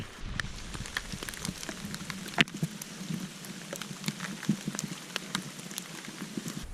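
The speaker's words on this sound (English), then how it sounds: "the rain just keeps coming" Steady rain falls on a forest trail along the Ouachita Trail, a dense, even patter of drops with occasional sharper hits, close and continuous with no voices.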